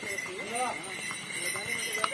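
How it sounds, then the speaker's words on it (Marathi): Horses' hooves clip-clop on the mountain trekking path from Gaurikund up to Kedarnath, a light, steady patter heard beneath someone talking. "बाजूने घोडे"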